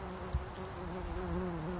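A bumblebee, one of several species including the endangered rusty patched bumble bee, hums with a steady, faint, close buzz that runs unbroken for under two seconds, with a quiet high whine beneath it and no voices.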